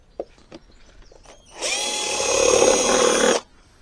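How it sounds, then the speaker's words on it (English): A power drill widens a hole in a Lifan King motorcycle fitting, a loud continuous whine lasting under two seconds after a few small knocks and handling sounds. "Let's get a drill."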